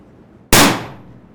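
A single sharp shot from a suppressed 300 Blackout rifle with a 10-inch barrel, firing supersonic ammunition: one loud close crack with a quick bright onset that decays over about half a second, with no talk.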